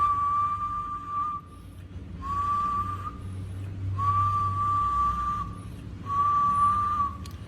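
An Icom IC-750 HF transceiver transmitting RTTY on 7 MHz gives a steady whistle tone, four sustained pulses with short gaps between them, over a low hum.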